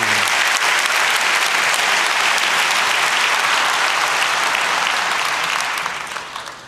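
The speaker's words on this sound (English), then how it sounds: "Give a warm hand of applause to Mr. Stephen Ridley" An audience applauds a speaker at a hacking and security conference talk, with dense, sustained clapping filling the hall before it tapers off near the end.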